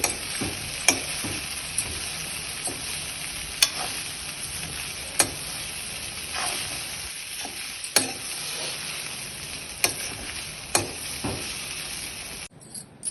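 Poha with peanuts being stirred in a hot pan at a village home kitchen: a steady sizzle with a dozen sharp spoon scrapes and taps against the pan at irregular intervals, close up, with no talking.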